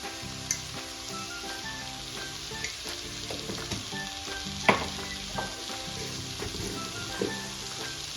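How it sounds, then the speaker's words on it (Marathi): Radish and lentils sauté in hot oil in a pan, giving a steady close sizzle and crackle with occasional sharper pops and light stirring scrapes throughout. "आपण त्याला तेलात डाळ आणि मुळ्याची भाजी पूर्ण अशी परतून घेतली आहे"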